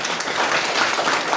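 Audience applause for a man's final selection into the Delhi Police, a steady dense wash of many hands clapping together, loud and close with no voices on top.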